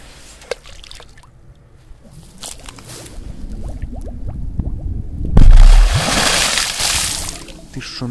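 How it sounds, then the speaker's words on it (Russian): An underwater firecracker explosion sends a splash and wave through the water: bubbling, gurgling trickles build until a sudden loud whoosh of churning water surges midway and then continues to rush. "Ты что, накрыл волной нас?"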